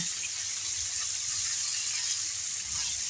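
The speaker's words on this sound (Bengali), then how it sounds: "এই পিঠে আমি প্রায় আরও 2 মিনিট ভেজে নিয়েছি" Fish pieces frying in hot oil in a new wok give a steady, close, broadband sizzle that holds even throughout, with a faint low hum underneath and no talking.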